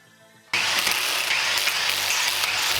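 An impact gun drives truck suspension bolts during a suspension install, starting abruptly after a short quiet moment and then rattling loudly and continuously in a fast, close hammering burst.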